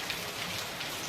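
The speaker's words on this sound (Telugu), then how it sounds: "చూసారా వాన ఎలా పడుతుందో?" Rain falls in a dense, steady hiss of drops pattering on surfaces, even and close, with no voices over it.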